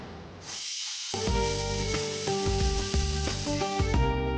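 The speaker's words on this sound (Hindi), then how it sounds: "ये कुकर है ना, एकदम गलत टाइम पे सीटी बजा के मोमेंट खराब कर" A pressure cooker on a home kitchen stove lets off its whistle: a loud burst of steam hiss that swells into a steady, shrill, layered tone and holds for several seconds with no talking.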